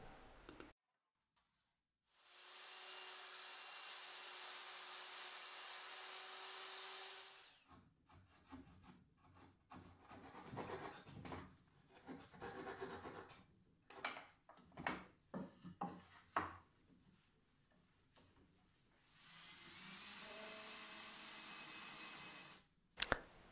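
A hand saw cuts an irregular shape through cedar planter box pillars. Long continuous rasping strokes at the start and end frame a stretch of choppy, uneven scraping and clicking. The sound is close and clear.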